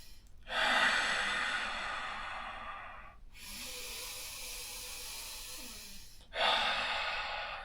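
A voice imitates deep, heavy breathing: three long, loud, breathy exhalations in slow succession, each a sustained hiss separated by short pauses, close to the microphone.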